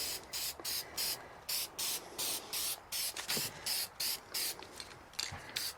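An Arctic Cat Ramrod engine is spray painted in quick bursts from a spray can, a rhythmic series of short, hissing sprays separated by brief pauses, fairly close and moderately quiet.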